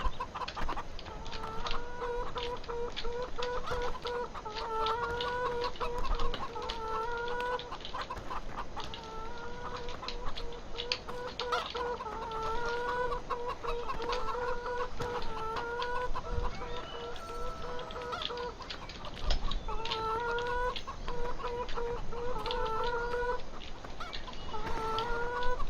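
Chickens in the Farming Simulator 2015 chicken yard cluck steadily in a continuous, busy chorus of repeated calls, close and clear throughout with no one speaking.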